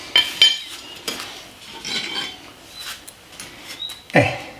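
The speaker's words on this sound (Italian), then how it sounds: "E togliamo via la nostra corona." Someone removes the old rear sprocket from a Tinbot ES1S-PRO electric supermoto, producing close metallic clinks, scrapes and light knocks of steel parts, with a louder clank at the end.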